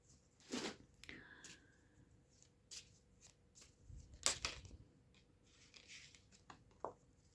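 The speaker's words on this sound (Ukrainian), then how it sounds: "Візьміть колоду карт та перемішайте її" Soft riffling and tapping of a Lenormand card deck being shuffled, in several short bursts, quiet and close.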